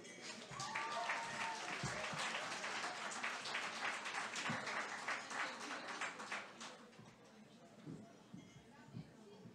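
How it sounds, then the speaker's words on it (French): Audience applause after the introduction of a psychology professor and director of a laboratory on couples and sexuality at a talk, steady dense clapping that swells early and thins out toward the end, with some murmuring voices underneath. "on applaudit"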